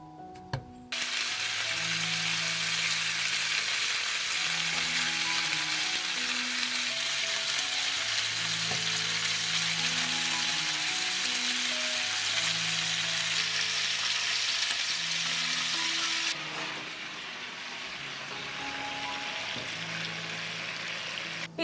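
Cut sausage pieces fry in a pan with a steady, loud sizzle over soft background music, the crackle holding constant and dropping slightly in level near the end.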